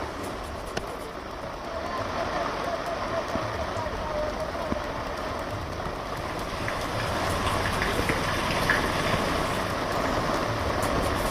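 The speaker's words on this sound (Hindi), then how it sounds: "कई जगहों पर बारिश भी लगातार हो रही है" Steady heavy rain pours during flood rescue operations in Maharashtra and Bihar, a dense continuous wash of noise that holds throughout and grows slightly louder toward the end.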